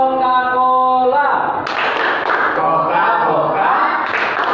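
A group claps out the Tepuk Coca-Cola clap chant at a dakwah session, loud and close, with rhythmic bursts of many hands over chanting voices.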